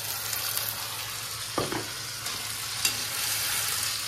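Onions for chole fry in a pan with a continuous, even sizzle, marked by a couple of short scraping stirs.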